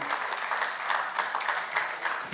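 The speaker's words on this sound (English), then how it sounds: "Can you clap for him, please?" An audience at a campus event applauds, a dense, even burst of many hands clapping together at close range with no break for its short length.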